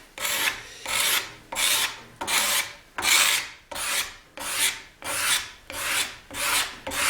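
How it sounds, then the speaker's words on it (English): A hand scraper shapes a wooden electric guitar neck in eleven even, rhythmic strokes, each a close, bright scraping rasp that fades before the next one begins. "I'll have to switch to a smaller scraper for in this corner here, in this edge."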